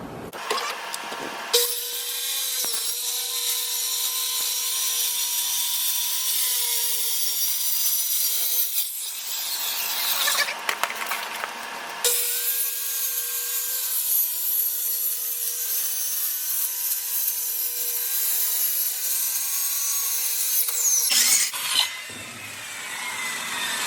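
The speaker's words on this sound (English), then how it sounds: "I'm gonna cut little squares of 2 feet all across, so that way I got all these boards cut out." A power saw cuts plywood boards into two-foot squares for a dog house, with long whining cuts separated by brief pauses, loud and close, and no talking.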